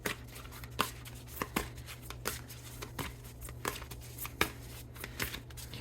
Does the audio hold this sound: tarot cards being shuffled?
yes